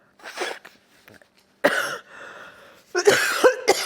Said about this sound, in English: I have to cough and spit it because a lot of it is on my chest